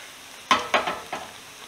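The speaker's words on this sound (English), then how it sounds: "Mix it together." A spoon scrapes and stirs nacho cheese into stuffed potatoes in a pan, three or four quick close strokes against the pan over a faint sizzle.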